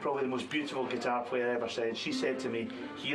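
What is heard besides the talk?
No everyday noises stand out.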